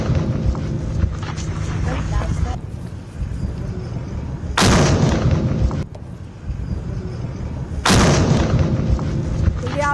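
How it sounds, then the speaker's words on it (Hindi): Two sudden heavy blasts from a Pakistani drone detonated under control in Jammu, each a loud broadband boom that rolls on for about a second, set against a constant rumble of background noise; no one speaks. "आप सुन रहे हैं जो धमाके की आवाज हो रही है, पाकिस्तानी ड्रोन है जिसे कंट्रोल्ड एनवायरनमेंट में डिफ्यूज कर दिया गया है।"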